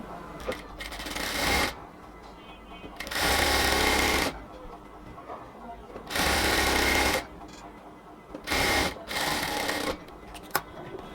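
A sewing machine stitches the sleeves of a cotton dress in four separate loud bursts of fast, buzzing needle action, broken by quieter pauses with faint handling noise between runs.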